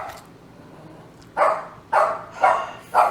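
A dog barks four times in short, loud bursts spaced about half a second apart, following a stretch of quiet room tone.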